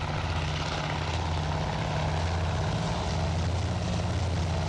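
Enemy aircraft engine in the naval warfare game Task Force Admiral, a loud, steady propeller drone with a deep rumbling throb filling the whole stretch.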